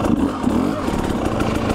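A 2019 KTM 300 XC W TPI two-stroke dirt bike riding a trail, its engine buzzing close by with rapid revving pulses over a short stretch.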